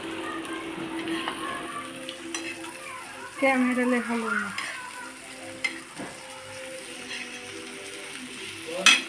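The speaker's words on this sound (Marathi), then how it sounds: "कांदा लाल होत आला की त्याच्यामध्ये हिरव्या मिरच्या ज्या आपण अर्ध्या अर्ध्या कटिंग करून घेतलेल्या आहेत त्या आपण ह्याच्यात टाकणार आहोत" Chopped onions and halved green chilies fry in oil in a pan for egg biryani, giving a steady close sizzle with occasional stirring scrapes and clinks.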